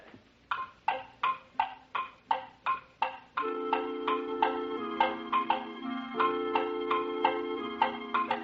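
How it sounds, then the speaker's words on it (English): Clock ticking sounds form part of a comedic song on a Jack Benny radio comedy show, a steady run of crisp tick-tock clicks that continues as sustained musical tones join partway through. "Instead of going tick-tock, tick, the crazy clock goes tock-tick-tock."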